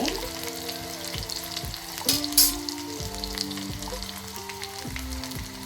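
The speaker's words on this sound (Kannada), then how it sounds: "ಈಗ ಉಳ್ಳಾಗಡ್ಡಿ ಹಾಕಿದ್ದೀನಿ" Onion frying in a pan for a North Karnataka chavalikai (cluster bean) palya, a steady close sizzle with soft stirring scrapes and a brief louder hiss partway through, with no talking.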